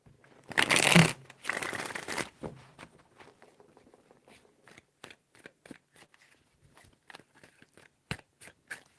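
Tarot cards get shuffled, first a loud riffle of about two seconds, then a long run of soft, scattered taps and flicks as the deck is cut and handled close by, with no talk.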